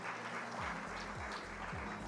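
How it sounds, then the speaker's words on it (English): Audience at an awards evening applauds the winners, a faint wash of many hands clapping under steady music with a repeating low rhythmic pulse, somewhat distant and continuous. "Can we have a big round of applause for all our winners?"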